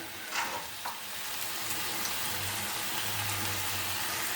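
Steady frying sizzle of onion in a pan, a continuous crackling hiss at even loudness, with a few soft stirring clinks near the start.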